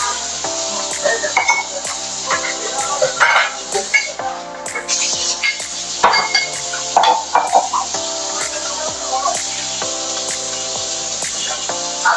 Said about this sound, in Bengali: দেখেন কত সুন্দর করে মাংসটা মিক্সার করতেছে